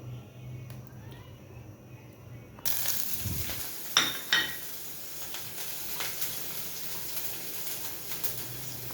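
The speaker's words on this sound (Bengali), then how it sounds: "ভালো করে ভেজে নিব দুটাই মশলার সঙ্গে" Oil heats in a pan with garlic, green chilies and mushroom, starting quiet and then turning into a steady close sizzle once the food goes in, with a few sharp scrapes and clinks of stirring.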